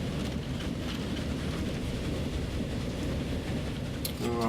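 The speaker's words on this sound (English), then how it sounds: "ride with our train in." Train rolling along in the Transport Fever simulation game, a steady continuous rumble that holds throughout, with a brief brighter mechanical sound near the end.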